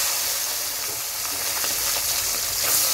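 Small mola fish frying in hot oil, a steady, dense sizzle with fine crackling that stays fairly loud and even throughout, no voices.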